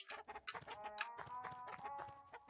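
A chicken in the video game LISA: The Painful RPG clucks in a quick, choppy run of short squawks and clucks, close and fairly quiet, with no voices over it.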